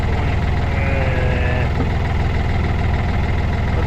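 A Yanmar track dumper's engine runs at a steady idle, loud and close, with a continuous low rumble and no change in speed.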